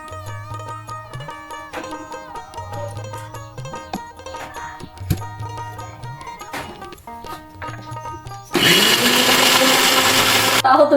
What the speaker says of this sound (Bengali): এখন কিন্তু পেঁয়াজ ব্লেন্ডার করবো